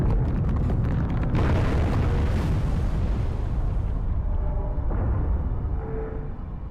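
An explosion in a modded Halo 3 video game gives a loud, broad, rumbling roar that holds for several seconds and then slowly fades, with no talk.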